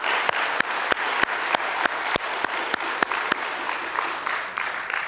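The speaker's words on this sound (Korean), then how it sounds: "하나님 앞에 다시 한번 감사의 박수를 뜨겁게 올려드리겠습니다." Church congregation at a Sunday worship service clapping in unison, loud crisp claps in a steady even rhythm, about three per second, with no voices.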